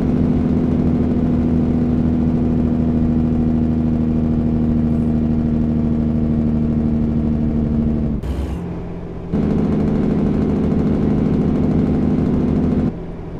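Video-game truck engine droning steadily at a mid pitch with a constant whine, cutting out briefly near the end before resuming and then dropping away.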